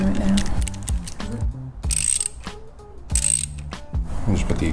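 A hand ratchet clicks rapidly in close, repeated bursts while screwing down the battery on a Harley Sportster motorcycle, with short pauses between strokes and brief metallic handling noise.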